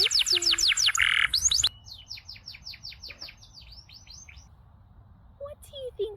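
Bird chirping in a guess-the-animal-sound game for kids: rapid repeated high chirps and tweets, loud at first, then a fainter run of quick descending notes, with a few brief higher calls near the end.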